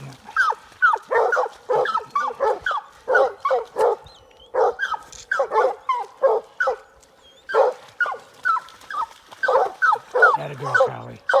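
Hounds baying repeatedly during a bobcat hunt in the Maine woods, a steady run of loud, close barks and bays with a person talking intermittently over them.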